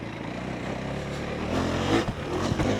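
A KTM 390 Enduro single-cylinder motorcycle engine pulls steadily in second gear along a tight dirt trail. The drone runs continuously and close, swelling slightly as the throttle opens partway through.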